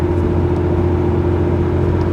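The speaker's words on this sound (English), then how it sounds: "Oh man, that exhaust brake." A RAM 3500 HO Cummins diesel truck towing a big fifth wheel, its exhaust brake droning as a steady, loud, low rumble with a constant hum, close and unbroken throughout with no talking.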